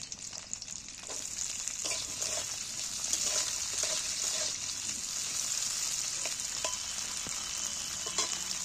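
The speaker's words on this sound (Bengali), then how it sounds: "রাখা বিমগুলো তুলে দিচ্ছি তেলের মধ্যে" Beans fry in hot oil in a pan with a continuous, even, fairly soft sizzle and scattered light clicks of stirring throughout.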